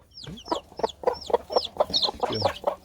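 A mother hen clucks steadily in a quick repeated rhythm, close by, with higher chick-like peeps mixed in over the clucks.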